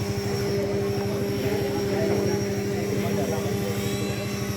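A model helicopter makes fast laps and circuits at a college aeromodelling air show, its rotor chop a steady loud beat throughout, with continuous engine whine and crowd chatter underneath.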